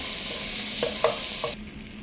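Tomatoes sauté for an egg roast in a pan under a steady, close sizzle, broken by a few quick scrapes of a stirring spoon before the frying noise eases slightly.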